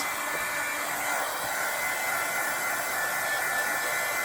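A hair dryer or heat tool blows steadily on watercolor paint laid over embossing powder on a flower card, giving an even, close airy whoosh that runs throughout without a break.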